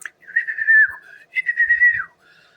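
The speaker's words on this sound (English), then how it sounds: "I whistled." A person whistles two sustained, clear notes in a row, loud and close, with a short pause between them and a faint trailing tone after.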